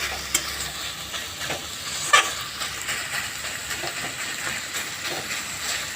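Kharkol (elephant-foot yam) stalks fry in a pan with a steady, close hiss and sizzle, broken by occasional stirring clatters and scrapes; nobody speaks.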